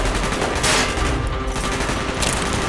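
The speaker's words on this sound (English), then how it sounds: "Gunfire's drawing attention." Gunfire in the video game Call of Duty Black Ops, a dense, continuous wash of shots and bursts with sharper crackles near the start and end, loud throughout with no talk.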